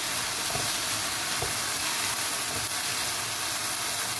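Potatoes and minced pork fry in a pan with a loud, continuous sizzle and hiss, dense and steady throughout with a few faint stirring scrapes.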